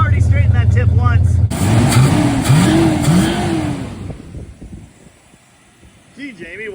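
A 1969 Dodge Charger V8 with a two-barrel BBD carburetor and a loose exhaust tip rumbles, revving up loudly then settling back, with someone talking over the opening seconds.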